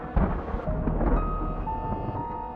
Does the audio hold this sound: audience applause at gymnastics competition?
no